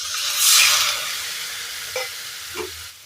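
Bhindi masala curry hisses and bubbles in the pan after water goes in, a swell of steam followed by two short scrapes of the spoon stirring it.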